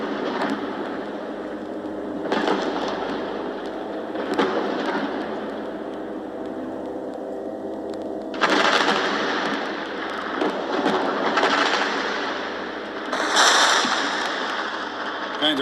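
Gunfire during fighting in Gaza, carried over a live stream: repeated sharp bursts and cracks ring out in a dense, noisy wash, some louder volleys standing out, with no talk.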